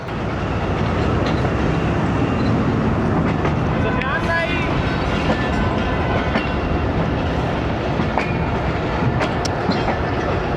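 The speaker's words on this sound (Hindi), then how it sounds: "ट्रेन रवाना हो रही है जनाब" The 122DN Ravi Express pulling out of Lahore Junction, heard from on board as a loud, continuous rumble of wheels and carriage with faint rhythmic clacking and wind buffeting, while someone speaks over it.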